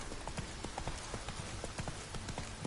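Hooves of Roach, a horse in The Witcher 3: Wild Hunt, clip-clopping in a steady, even trot, moderately close and quiet, with no talking.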